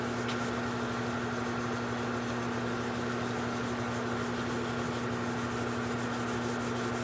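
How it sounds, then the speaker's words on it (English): Sandpaper rubbing a small sycamore bowl on a wood lathe, a steady continuous abrasive hiss over the lathe's constant motor hum, close and unbroken throughout. "Well, the sanding went really well."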